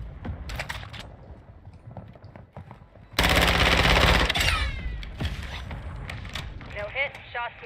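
Burst of automatic gunfire from a Call of Duty DMZ match, a loud dense volley lasting about a second mid-clip, framed by quieter game clicks, footsteps and faint voice chatter.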